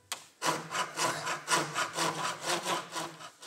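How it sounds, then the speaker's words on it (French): Wood being turned on a 19th-century foot-powered lathe to shape a chair rung, a loud rasping cut repeating in a steady rhythm about three times a second, close up with no talk. "Il faut synchroniser le coup d'outil avec le coup de pied."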